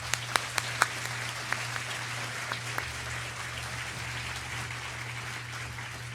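A commencement audience applauds the graduates, a sustained wash of clapping from a large crowd with a few sharper claps standing out early, steady to the end.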